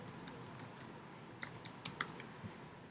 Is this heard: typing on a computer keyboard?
yes